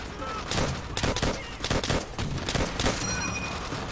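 Repeated M1 Garand rifle shots crack through a busy Call of Duty: World at War battle, with sharp reports roughly every half second amid constant combat noise and a thin metallic ring near the end.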